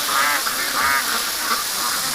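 Ducks in a pen quacking in several loud nasal bursts close by, repeated honking calls over a steady background hiss of rain or running water.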